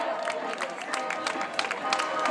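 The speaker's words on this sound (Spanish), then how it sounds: "Vamos, un aplauso, que no estamos... Que demostremos un poquillo de calor a esta gente" Spectators at a popular footrace in Meaño, Galicia clap in a fast, uneven patter of many hands, with crowd voices and talk mixed in throughout.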